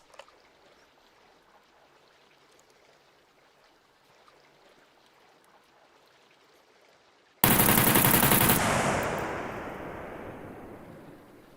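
Gunfire from the survival video game SCUM bursts in suddenly after a long quiet stretch: a loud, close blast that rings out and decays slowly over several seconds, with no talk.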